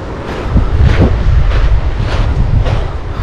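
Gusty wind buffeting the microphone on a beach in Lazarevskoye, Sochi, a steady low rumble with a few stronger gusts swelling and fading, loud and close, with no voices.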